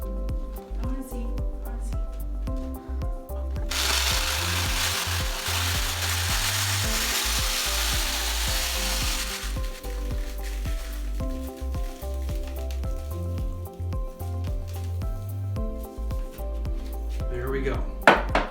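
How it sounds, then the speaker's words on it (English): Rice pours into a cylinder for several seconds as a steady, dense hiss, with music playing throughout underneath. "we're now going to fill this with rice"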